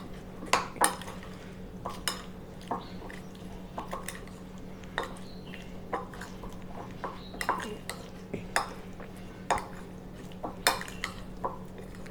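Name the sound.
mixing paneer with masala in a bowl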